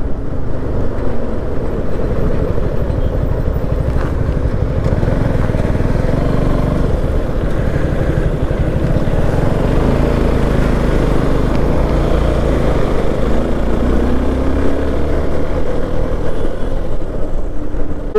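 A motorcycle cruising along the Mumbai–Goa highway on a morning ride, its engine droning steadily and loudly throughout with continuous wind and road rumble, no speech.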